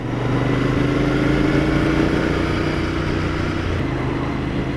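A 2019 Royal Enfield Interceptor 650 twin with its pair of exhausts drones steadily and loudly throughout, a continuous close engine note holding a roughly even pitch with no voices.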